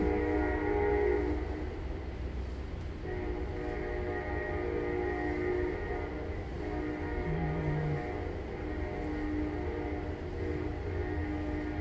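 A train rumbles past at a distance, a steady low drone with sustained horn-like tones sounding over the rolling noise.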